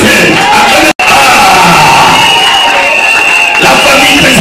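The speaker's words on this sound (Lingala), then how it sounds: "Acclamez pour la famille présidentielle." A loud crowd cheers and shouts continuously at a customary wedding, acclaiming the presidential family, with a dense roar and yells filling the whole stretch apart from a brief dropout.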